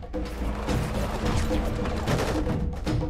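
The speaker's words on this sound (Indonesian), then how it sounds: "langsung melesatkan" Dense gunfire from soldiers in a Korean war film about an embassy trapped in a civil war, a continuous roaring fusillade with crashing impacts filling all three seconds, loud and unbroken with no speech.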